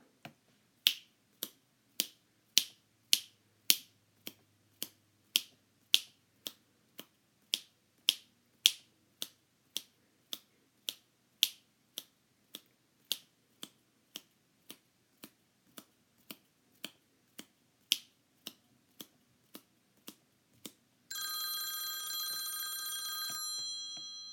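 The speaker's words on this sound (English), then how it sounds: "I can snap my fingers blank times in 20 seconds." Fingers snapped repeatedly in a steady rhythm, about forty crisp, close clicks over twenty seconds, then a ringing timer-like bell ends the sequence.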